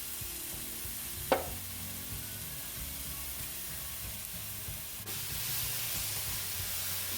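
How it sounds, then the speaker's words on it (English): Cumin, garlic and pimentos sizzle softly in olive oil over lowered heat as they are stirred, a low steady hiss with one sharp utensil clack near the start. "we're going to stir everything together and let all those flavors from the spices release in the oil"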